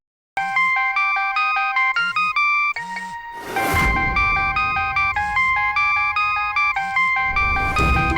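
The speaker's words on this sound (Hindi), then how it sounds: "अब ये किस लिए फोन कर रहा है?" An incoming call sets a phone ringtone playing loudly and up close in a home in an Indian TV drama. The bright, repeating electronic melody runs for several seconds after a short pause at the start.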